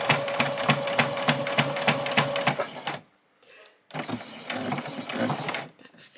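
Sewing machine stitching across fabric bag pieces, a fast close rattling run that stops briefly and then starts again.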